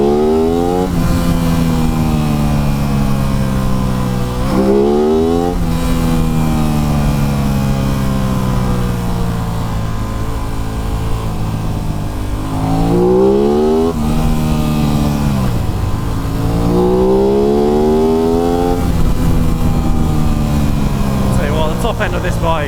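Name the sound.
Aprilia RS 660 motorcycle engine revving at the top end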